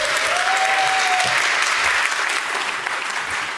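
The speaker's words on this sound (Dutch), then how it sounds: "Geef hem een warm applaus." A film première audience breaks into warm applause, a thick sustained wash of clapping from a full room, fairly loud, with a brief tonal whistle-like sound early on.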